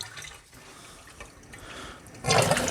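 Fresh water pours from a Kangen water machine, starting as a faint trickle and drips that swell into a louder, steady splashing stream near the end, close by with no talk.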